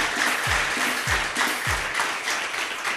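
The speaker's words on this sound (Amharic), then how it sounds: "አጨብጭቡ።" An audience clapping at a religious gathering, a dense, continuous wash of applause with a few low thumps mixed in, moderately loud throughout.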